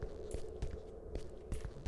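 Footsteps in the horror game Who Knocks, a steady series of soft thuds about half a second apart over a constant low hum, faint and alone.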